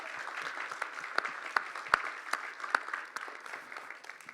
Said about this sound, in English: So how about a round of applause for both of our guests?